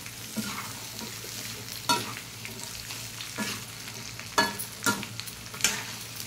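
Potato slices frying into chip-like pieces in a pan, a soft steady sizzle under several louder scraping stirs of a ladle against the pan.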